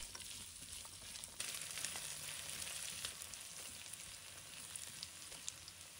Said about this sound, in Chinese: 接着把葱姜蒜放入锅中